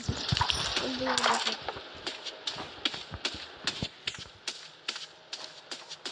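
A series of short metallic clinks and chimes rings out at an irregular pace, crisp and close, with a faint tonal blip early on.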